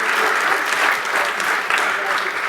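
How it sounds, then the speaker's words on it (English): An audience at a history quiz bowl claps steadily and loudly, a dense wash of applause that continues without a break. "Ladies and gentlemen, a round of applause for Harvey Young"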